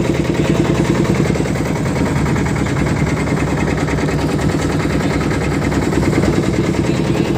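A small river boat's motor chugs steadily near Rana Pratap Ghat, a loud, continuous low drone with a fast, even vibration and no talking.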